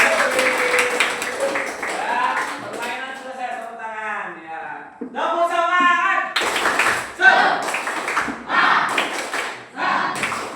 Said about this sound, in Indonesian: Ya, permainan selesai, tepuk tangan ya.